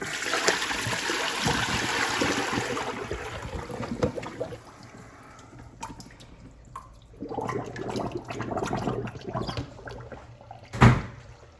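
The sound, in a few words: hot water being dumped out of container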